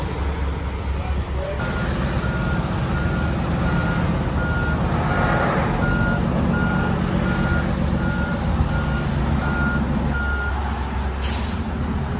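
Steady reversing beeps from a service truck backing up on a highway to hook a broken-down semi truck for towing, with a diesel engine idling low and an air brake hiss near the end, voices faint underneath.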